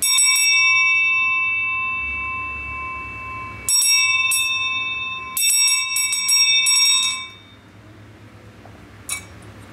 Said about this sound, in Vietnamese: cái chuông của Nhật, cái chuông bằng đồng nha, âm thanh nó phải nói là